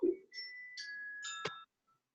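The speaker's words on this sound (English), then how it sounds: "Is that your timer?" A small kitchen-style timer chimes a short sequence of bright electronic tones, three or four rising notes ending in a sharp ding, close by in a quiet room during a stretching session.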